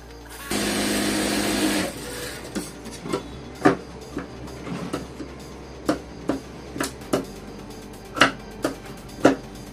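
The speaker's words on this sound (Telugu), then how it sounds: "అదే కుట్టు ఇక్కడ కూడా కంటిన్యూ అయిపోతుంది." A sewing machine stitches a padded blouse: a loud continuous run of stitching for over a second, then a series of sharp, evenly spaced clicks and short bursts.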